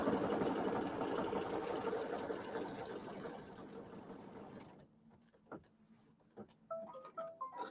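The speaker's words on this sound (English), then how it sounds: "it's going to sew along this side" Embroidery sewing machine stitching fabric stretched in a hoop, a steady fast mechanical whir and chatter that runs for several seconds then stops, followed by a few quiet clicks and taps.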